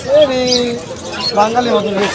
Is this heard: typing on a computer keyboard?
no